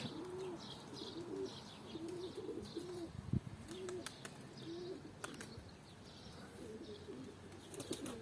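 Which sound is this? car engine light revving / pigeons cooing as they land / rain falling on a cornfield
pigeons cooing as they land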